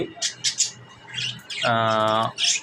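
A pair of lakka pigeons kept for sale at a pigeon seller in Gazipur, close and fairly loud, with short chirpy calls at the start and end and a longer, tonal, drawn-out call in the middle.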